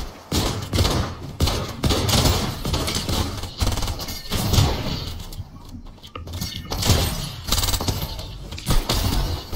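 Rapid gunfire from shooting in the video game Fortnite, a dense string of loud, punchy bursts and thuds with brief gaps, sounding close.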